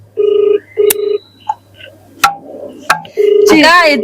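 A telephone rings in short repeated electronic bursts, loud and close, with a brief voice and some clatter in between.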